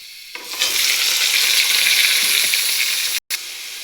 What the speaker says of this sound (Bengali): ভালো করে লাল লাল করে ভেজে নিয়েছি, এখন আমি শাকটা দিয়ে দেবো।